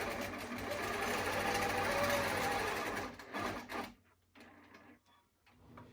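A sewing machine stitches down the sides of a piece in a steady, fast, close mechanical whir for about four seconds, then stops, leaving a few faint clicks and light handling noises.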